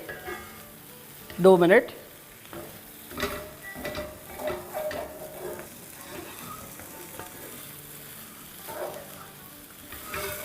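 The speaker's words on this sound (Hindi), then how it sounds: "अब इसकी भुनाई कर लेंगे" A one-pot breakfast is stir-fried in a pan, an ongoing sizzle punctuated by scraping spoon strokes and occasional clanks, with a brief spoken remark near the beginning.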